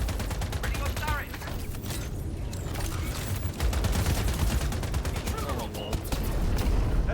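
Turret gunfire in a video game, fast repeated shots forming continuous bursts over a rumbling game soundscape, loud and close with brief pauses between volleys.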